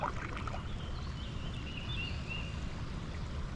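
River water moves and trickles steadily nearby, a soft continuous wash, with faint bird calls in the distance.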